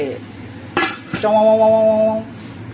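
A metal lid goes onto a cooking pot of pinakbet: two quick clanks, then a bright ringing tone that holds for about a second before fading, up close.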